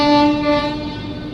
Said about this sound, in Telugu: ఏదో వీక్లీ స్పెషల్ ట్రైన్